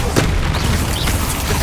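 An Incendio fire spell cast in Hogwarts Legacy, a loud, deep booming blast that swells and rolls for the whole short moment with no pause.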